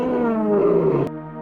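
A lion gives one loud, close roar that holds for about a second, then cuts off sharply into a quieter tail.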